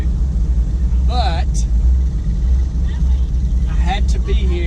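Low, steady engine rumble from Baby D, a slow car at Memphis International Raceway before a burnout, running loud and continuous throughout while someone talks over it.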